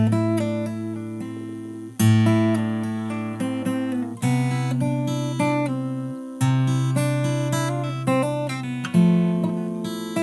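Fingerstyle guitar plays the verse of a song alone, with a sustained bass note under each plucked chord and a fresh attack roughly every two seconds.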